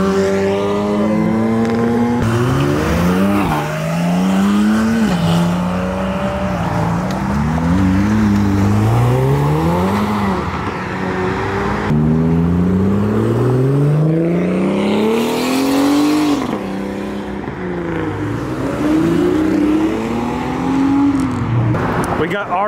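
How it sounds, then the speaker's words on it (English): Audi RS6 and RS3 cars pull out of a car show one after another, engines revving hard in repeated rising sweeps through the gears, loud and close, with voices now and then over the exhaust. "You got the Audi gang rolling out. Two RS6s and an RS3."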